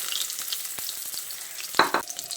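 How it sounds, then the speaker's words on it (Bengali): Marinated eggplant pieces hiss in hot oil, a steady sizzle broken by a few sharper crackles and spatters near the end, close and moderately loud with no voices. "এবার তেল ভালো করে গরম হয়ে এলে এই ম্যারিনেট করা বেগুনগুলো দিয়ে ভেজে নিচ্ছি"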